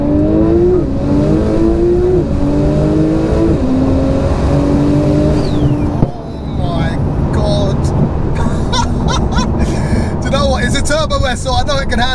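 A stock-looking 1536 bhp Porsche 911 Turbo S with a 4.1-litre stroker engine pulls hard in second gear, its engine note rising in stepped, repeated climbs before a sharp shift and a fainter run, with people talking over it.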